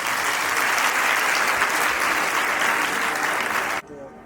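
A large audience at a Nazareth church gathering at a Durban university breaks into sustained, loud, even clapping to welcome a preacher, then it cuts off sharply near the end.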